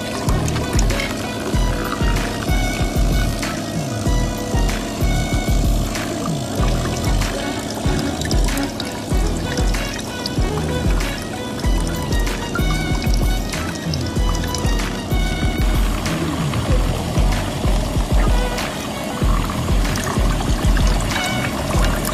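Purified water pouring out of a solar water purifier, a continuous splashing gush with trickling detail, steady and close throughout with no talk.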